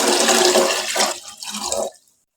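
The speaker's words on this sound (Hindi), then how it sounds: "सबसे पहले कुकर में मैं पानी ऐड कर दूँ। ये एक जग ऐड कर दिए।" Water pours from a jug into a pressure cooker in one brief, splashing rush at close range, tapering off and stopping abruptly.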